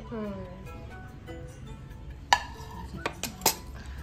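Kitchen utensils and a wok being handled at home, with a few sharp metallic clinks and clatters near the end over a room background; a person talks at the start.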